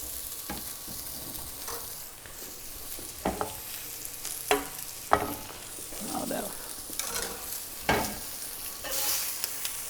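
Broth is poured into spring pea risotto in a pan and stirred, a soft steady simmering sizzle under repeated scraping strokes of a spoon, close and clear, with no talk.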